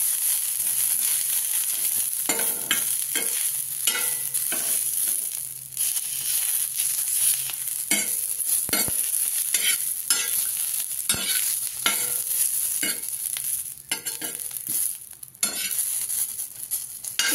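Green chilies for Banarasi dahi mirchi sauté and roast in a hot pan, a steady bright sizzle running throughout with repeated scraping stirs of a spatula at irregular intervals, close and loud, no talking.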